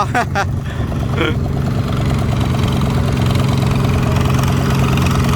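A vehicle engine labouring in first gear through a muddy rice field, a loud, steady, close rumble that holds throughout, with brief voices near the start.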